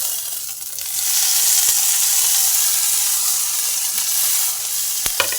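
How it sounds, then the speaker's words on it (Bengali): Ginger garlic paste hits fried onions in a hot pan and the sizzle swells into a loud, steady hiss, with a couple of sharp utensil clicks near the end, close and without speech. "তো আমি এর মধ্যে এবার আদা রসুন বাটাটা দিয়ে দেবো।"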